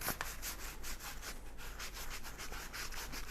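Cleaning solution being scrubbed over a Samsung refrigerator's water and ice dispenser assembly, a steady rhythmic rubbing and brushing at close range, quiet and continuous with no voices.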